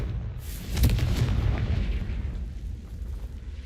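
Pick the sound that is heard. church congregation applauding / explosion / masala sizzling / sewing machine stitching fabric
explosion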